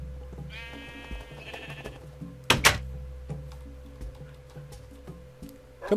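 A few Minecraft sheep bleats, moderately close, with soft squishy game sounds and low background hum between them.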